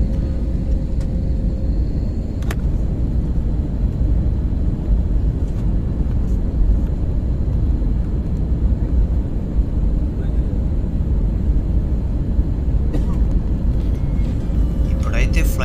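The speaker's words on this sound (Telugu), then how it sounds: "మన ఫ్లైట్ అయితే ముంబై ఎయిర్పోర్ట్లో ల్యాండింగ్ అవ్వబోతుంది" Steady low cabin roar inside an airliner descending to land at Mumbai airport, a continuous dense rumble with a few faint clicks and a voice talking over it.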